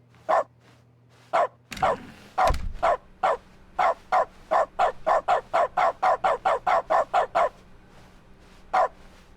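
Dog barking in the video game The Stanley Parable: Ultra Deluxe, a clean run of about twenty short, loud, evenly spaced barks that speed up into a quick rhythmic series, then one last bark after a pause.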